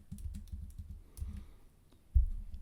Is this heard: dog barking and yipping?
no